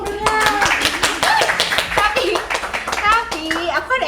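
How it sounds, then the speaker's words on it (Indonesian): A small group claps by hand in quick, uneven bursts, close and fairly loud, mixed with excited talking and a voice. "Tepuk tangan dong Bruna."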